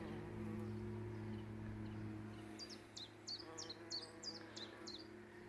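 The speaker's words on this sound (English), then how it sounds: "And there's a bee." A bee buzzes faintly among flowering garden plants in spring, including bluebells, in Cornwall, while a bird chirps in repeated short calls.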